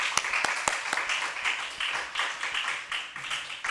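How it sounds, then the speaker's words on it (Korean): A church congregation at a Korean revival meeting bursts into applause, a lively, continuous patter of many hands with a few sharp, prominent claps standing out near the start, at a moderate level with some voices mixed in. "하나님께 영광의 박수 돌리겠습니다."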